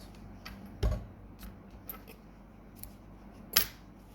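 Scissors snip through crochet yarn while a granny flower square is being finished: two sharp, close cuts a few seconds apart over a quiet background.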